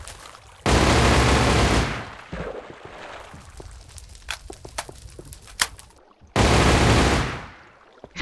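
Minigun from a Minecraft SDK gun mod in a multiplayer battle, firing two loud, sustained bursts of rapid gunfire, each lasting over a second, with scattered lighter in-game clicks and thuds between them.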